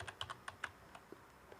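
Computer keyboard typing a short command in a terminal, about half a dozen quick close keystrokes in a burst and then a few sparse light taps, with no talk.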